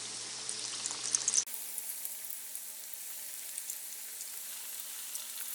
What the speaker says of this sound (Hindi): अब इसमें डाल के फ्राई कर लेते हैं।